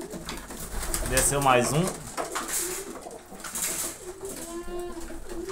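Homing pigeons returning to the loft coo steadily nearby, with wing flutters and someone talking over them.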